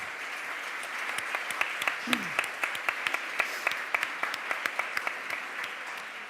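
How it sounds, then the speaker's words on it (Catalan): A round of audience applause at a round-table event honouring the women who came before, with crisp individual claps standing out over a steady crowd wash and a faint voice briefly underneath. "un aplaudiment per elles també"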